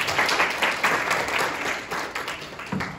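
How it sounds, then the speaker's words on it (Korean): A lecture audience claps enthusiastically, loud, dense applause that pulses slightly and thins out toward the end. "큰 박수 부탁드립니다."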